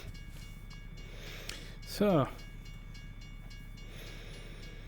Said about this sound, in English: come on, not a train again